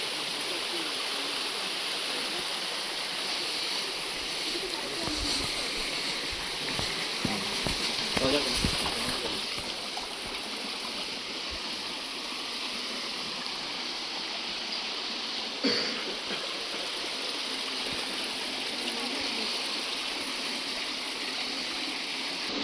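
Water stream flowing inside the Yana Caves in Karnataka, a steady faint broadband rush heard throughout, with a few brief knocks over it.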